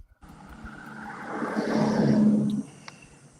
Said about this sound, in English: Well, that was a loud car.